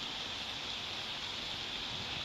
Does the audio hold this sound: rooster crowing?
no